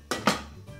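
A Thermomix lid is shut over onion, water and a little olive oil in the bowl, giving two close, sharp plastic knocks in quick succession followed by a quiet room.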